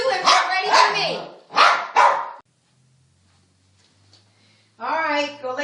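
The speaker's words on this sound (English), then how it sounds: "I just love those dogs." Dogs barking in a home, several loud close barks in quick bursts, then a pause with faint low sounds before another run of barking.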